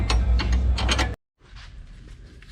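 Close ratchet clicks on control arm bolts of a 2005-2009 Mustang during a GT500 control arm install, a dense burst of rapid mechanical ratcheting that stops abruptly, then quieter metallic handling noise follows.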